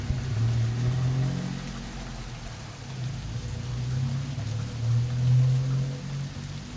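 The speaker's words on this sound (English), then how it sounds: "More rain again." Steady, heavy rain falls through a Tennessee thunderstorm, a dense continuous wash with a low rumble underneath that swells and fades slightly, close and fairly loud, with no talking.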